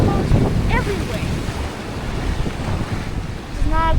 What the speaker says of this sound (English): The waves got slightly more calmer.